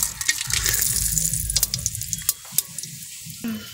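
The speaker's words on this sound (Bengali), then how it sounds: "তা গরম তেল হয়ে গেছে। এতে দিয়ে দিচ্ছি গোটা গরম মশলা আর কিছুটা তেজপাতা।" Whole garam masala and bay leaves dropped into hot oil for a Bengali dish, crackling and sizzling with a bright hiss, sharp pops and a few clinks, fading toward the end.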